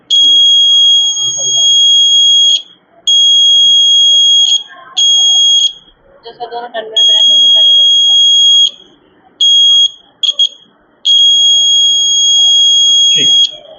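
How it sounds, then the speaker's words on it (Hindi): A loud, high-pitched electronic buzzer from a rain detector alarm, triggered by water drops, sounds in repeated bursts of varying length at a school science model competition. Speech is heard faintly in the gaps between them. "बारिश की बूंदें इस पे पड़ेंगी तो अलार्म बजने लगेगा और एलईडी ग्लो करेगी"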